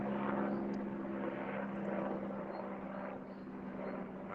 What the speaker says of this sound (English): There's a plane coming over.